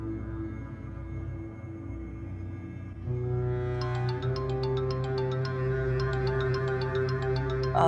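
A melodic electronic ringtone starts partway through and keeps playing, with rapid repeating high notes over a steady tonal background.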